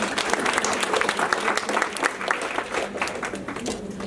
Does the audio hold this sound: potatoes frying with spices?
no